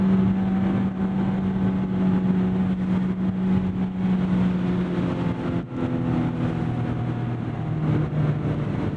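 A 2024 Mazda Miata ND3 Grand Touring's engine hums steadily from inside the car, its pitch shifting as heel-toe throttle blips nudge the revs up and down during downshifts.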